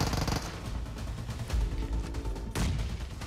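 MG3 machine gun fire in PUBG Mobile during a competitive two-versus-three fight, with dense sustained automatic bursts and heavy low rumble filling the short stretch, with no talk.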